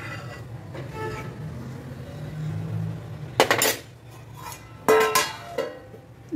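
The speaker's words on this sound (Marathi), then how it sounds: "झाकून ठेवते" A metal lid is set onto a cooking pot of spicy curry: a low kitchen hum, then two sharp close clanks with brief ringing rattles.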